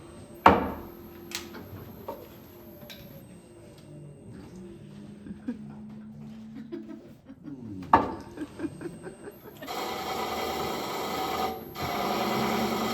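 End-grain wood is roughed out on a lathe in Japanese-style turning. A few sharp knocks and scattered scraping give way to a sustained, close, raspy cutting sound near the end.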